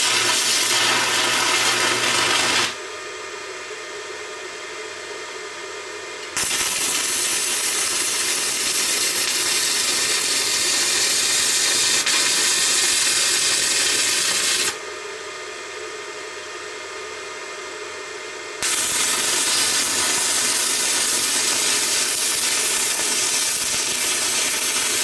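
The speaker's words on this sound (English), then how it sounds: "I'm going to put my welding mask on, and we'll make a few passes and see how well we can get that stick to hold." A Mecpow MMA 120 mini stick welder lays passes on an old brake rotor, a loud continuous crackling hiss in long bursts, broken by two quieter pauses between welds.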